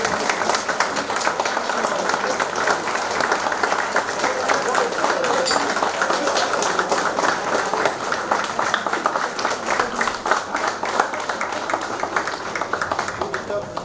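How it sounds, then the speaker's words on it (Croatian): Wedding guests applaud the bride's and groom's parents, a dense, loud crowd clapping that runs unbroken from start to finish, with chatter and voices mixed underneath. "Molim vas za jedan veliki aplauz za roditelje od mlade i mladoženje"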